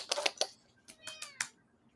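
Elvis, a pet cat, gives a run of short, quiet meows and chirps close by, several in quick succession with brief pauses between them.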